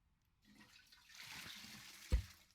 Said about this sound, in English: With a flush. Who doesn't like a flush?